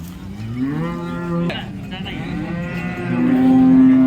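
Cows moo loudly and close by at a cattle market in Modnimb, India, in long, drawn-out calls, one low bellow followed by another rising call near the end.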